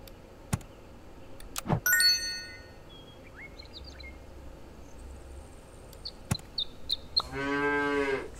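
A cartoon cow moos in the video game Super Auto Pets, a short harmonic moo near the end following a few brief chimes and game blips, loud and clear with no talk over it.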